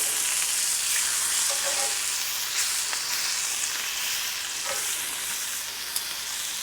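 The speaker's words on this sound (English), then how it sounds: "What they're doing is they're searing on the outside." Deer heart sears in a pan on a burner set to high, giving a steady, dense sizzle and hiss with occasional small pops, close and continuous with no talking.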